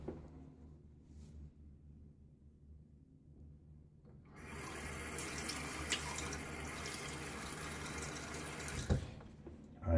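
Tap water runs steadily into a bathroom sink as a face is wet before a shave with a safety razor, starting after a quiet stretch and continuing at a close, even flow with small splashes near the end.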